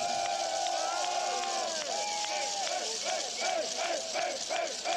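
Spectators at a public viewing in a hall watching a Korać Cup basketball match of the Albatrosse shout and cheer in repeated rising whoops, a loud, lively crowd reacting together.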